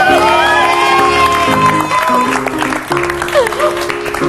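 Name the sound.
studio audience applause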